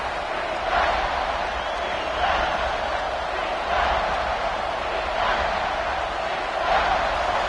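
A stadium crowd roars loudly at an American football game, a sustained wall of noise that swells in repeated surges as the defense forces a false start.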